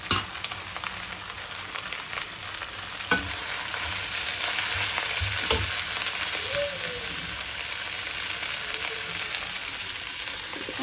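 Drumstick leaves sauté in a pan for home-made Tamil food, a steady sizzle running throughout with occasional spatula scrapes and clinks against the pan, close and moderately quiet, with no talking.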